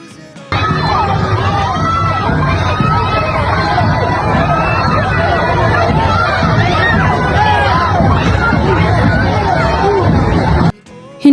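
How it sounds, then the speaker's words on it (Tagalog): A dense street crowd shouts and cheers continuously as actress Loisa Andalio walks past as Reyna Elena in a street procession, a loud, steady roar of many voices with no pauses. "Hindi magkamayaw ang sigawan at tuwa ng mga tao nang makita nilang naglalakad si Loisa Andalyo sa kalsada."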